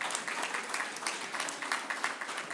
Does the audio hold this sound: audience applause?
yes